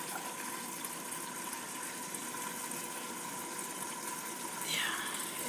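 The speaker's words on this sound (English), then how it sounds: "To pour water for a pap." Water is poured into a pot to cook pap, a continuous close gushing pour over a steady background hum that swells briefly near the end.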